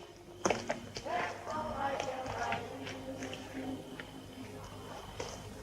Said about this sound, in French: Voilà son cheval.